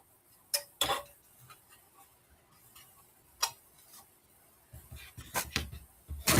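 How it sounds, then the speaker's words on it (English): An indoor clock ticks with sharp, separate clicks that come at uneven intervals, some louder than others, against a quiet background with no talking. "Your clock. I can hear it ticking away."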